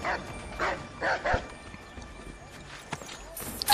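Dog yelping and whimpering as it is killed in the Assassin's Creed 3 video game, several short sharp yelps early on, then quieter game sounds with a few clicks.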